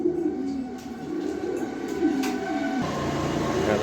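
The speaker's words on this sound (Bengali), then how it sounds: "কি সুন্দর কিউট একটা কবুতর।" A domestic pigeon from a breeding pair coos softly in a low, steady murmur, with a faint rumble like a passing train in the background and no talking.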